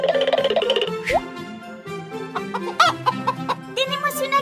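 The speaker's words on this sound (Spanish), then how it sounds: "¡Tenemos una gallina!" A hen clucks in a lively cartoon scene, giving a string of short, close clucks mixed with a popping plop and other playful sound effects.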